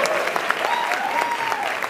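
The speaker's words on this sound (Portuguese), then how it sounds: "Salve de palmas pro DJ." Crowd applause for the DJ at a comedy and hip hop show, brisk clapping from the audience with a voice briefly sliding over it.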